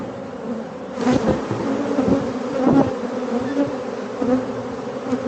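Honey bees buzz steadily at an open hive during a honey harvest, a dense close drone with a few louder swells as bees pass near, heard alone.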